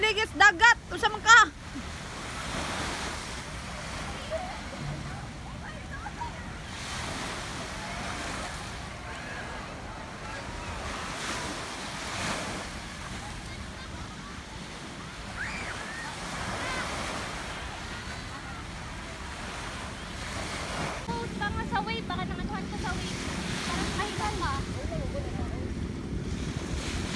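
Steady wash of sea waves at Sembawang Beach and wind buffeting the microphone, with voices and engine-like rumble at times.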